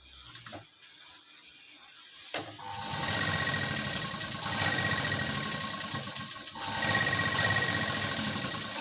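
An electric sewing machine runs steadily while stitching the hem edge of a blouse, starting after a short click and humming continuously with a few slight pauses in speed.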